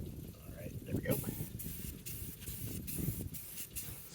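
An aerosol spray paint can hisses in short bursts, its spray rising and falling over a few seconds under a steady background noise.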